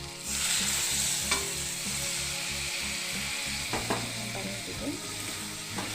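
Hot water poured onto dried fish frying with brinjal in a pan sets off a loud, steady sizzle and bubbling, with a few stirring clinks on top.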